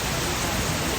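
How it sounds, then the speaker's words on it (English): Heavy tropical rain during a storm on Siargao pours down in a dense, steady roar, loud and close, with no talking. "It has been crazy rain I've never seen."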